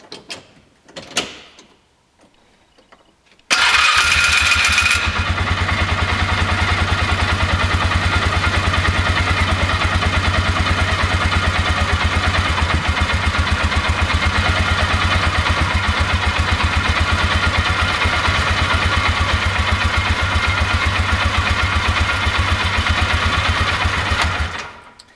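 Polaris Ranger 6x6 engine, just given an oil change, cranks after a few faint clicks and catches, then idles steadily and loudly up close for about twenty seconds before cutting off.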